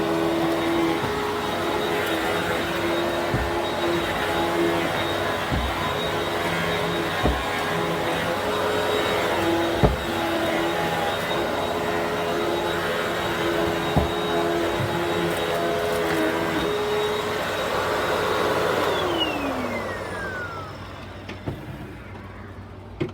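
Two vacuum cleaners, a Hoover WindTunnel 3 Rewind and a Bissell PowerForce Helix, with one running steadily and loud for about twenty seconds, its motor whine holding level before it winds down and switches off near the end.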